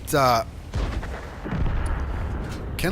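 Distant artillery fire in a World of Tanks tank battle: a sharp loud boom at the start, then a rumbling, crackling wash of battle noise that swells again toward the end.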